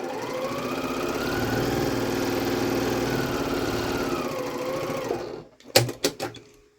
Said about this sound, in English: I've got one side, and I'm going to sew down this other side.